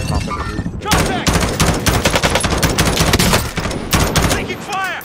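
Gunfire in the Warzone video game: dense bursts of loud, close automatic shots, one volley after another, with brief gaps and some faint ambient sound between.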